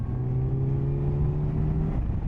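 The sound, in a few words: Kawasaki Z900 motorcycle engine accelerating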